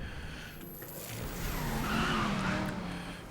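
A car drifts sideways in Need for Speed: Most Wanted (2012), a steady engine roar joined by a rising, wavering tyre squeal that swells toward the end, close and loud.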